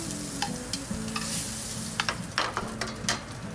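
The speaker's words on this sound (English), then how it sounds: "take the scallops out, put it on a greased pan" Scallops sizzle on a greased pan, a continuous close hiss broken by a run of brief scraping and tapping stirs, moderately loud, no voices.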